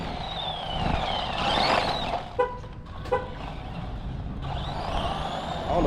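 A small Temu RC car runs at full throttle on a 3S battery, its electric motor whining in steady rising and falling pitch sweeps, with a couple of brief sharp clicks partway through.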